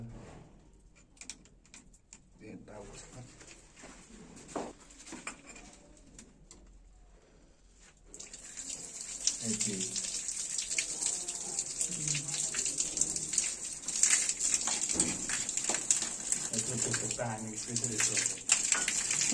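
Water runs from a shower fitted high on a bathroom wall while the lower outlet stays dry; a steady, loud hiss of flowing water starts partway through and continues, with voices talking underneath.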